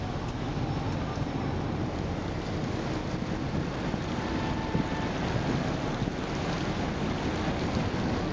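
A tourist boat on the Tien River near Tan Chau gives a steady, broadband wash of engine drone and water noise, constant and fairly loud with wind buffeting, no voices.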